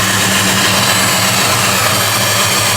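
A 1966 Pontiac GTO's big engine idles steadily at close range, heard from the tailpipe, with a deep, rumbling low-end burble and no voices.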